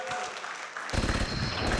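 Applause from an audience at a national political school event, rising abruptly from a murmur into dense, loud clapping that keeps going to the end.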